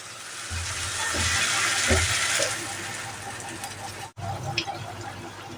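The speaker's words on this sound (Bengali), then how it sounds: "পেঁয়াজটা যাতে পুড়ে না যায় সেই জন্য আমি সামান্য একটু জল ব্যবহার করলাম" A small splash of water poured into onions frying in a pan, producing a loud rushing hiss for a couple of seconds that fades, then a brief crackling sizzle resumes.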